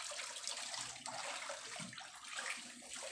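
Steady rushing, gurgling water drawn through a suction hose out of a fishpond, continuous and fairly close, with no one speaking.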